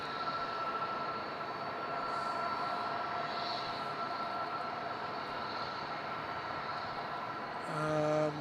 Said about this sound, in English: That will be Air India 309 for Delhi with a -8 Dreamliner.